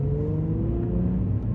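A car engine revs steadily upward to around 3,000 rpm during a test drive, a loud continuous rumble with a rising whine throughout, no talking.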